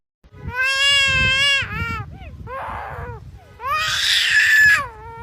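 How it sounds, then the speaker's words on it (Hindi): A bird giving long, wailing calls that sound like a crying baby, several drawn-out bleating cries rising and falling, close and loud over a low rumbling background. "अब इस परिंदे की आवाज सुनकर आपको ऐसा लगेगा जैसे कोई बच्चा रो रहा हो।"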